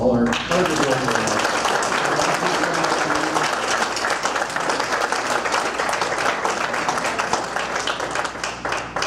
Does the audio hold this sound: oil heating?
no